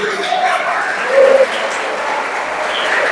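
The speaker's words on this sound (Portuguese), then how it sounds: "Vamos aplaudir ao Deus dessa igreja." A church congregation applauds after singing happy birthday, a broad, continuous patter of many hands that briefly grows louder, with faint voices mixed in beneath.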